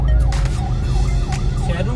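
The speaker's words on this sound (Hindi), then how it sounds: "ये कोई एम्बुलेंस भी यहाँ फंस गई है ट्रैफिक के अंदर, उसको भी रास्ता नहीं दिया जा रहा।" An ambulance stuck in heavy city traffic on the way toward Faisalabad wails with a loud, close, rising and falling siren over the low rumble of engines.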